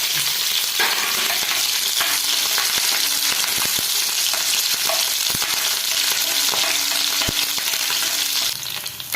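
Garlic and green chilies fry in oil with fenugreek for a Kerala-style lemon pickle, a steady bright sizzle with occasional clicks of stirring, no voices.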